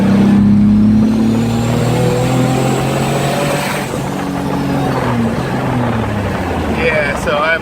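A turbocharged car accelerates in fourth gear while building boost, a steady loud engine drone with rising and falling tones held close throughout, a brief higher whir near the end.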